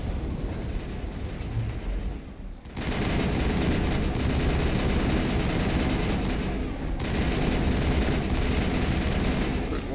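Rapid bursts of gunfire, including shotgun blasts, sound in the Mass Effect video game as a dense, loud, continuous clatter of shots.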